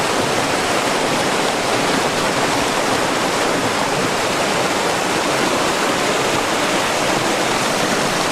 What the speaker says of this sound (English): the water really isn't moving too roughly, and it's pretty shallow